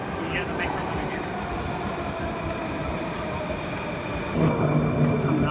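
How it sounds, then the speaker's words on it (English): Metro train pulling into one of the oldest stations of a Russian subway system, a steady loud rumble with rising roar and screech near the end, in a reverberant underground hall. "You hear the metro coming in."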